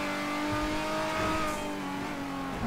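Convertible supercar engine in GTA 5 revving hard under steady acceleration, a loud, close, continuous roar with rising harmonic pitch and faint crackling exhaust pops, no voices.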